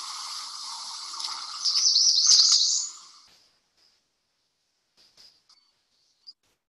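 A male American redstart sings a high, thin, buzzy series of notes lasting a few seconds and ending abruptly, followed by silence broken by a few faint scattered chips.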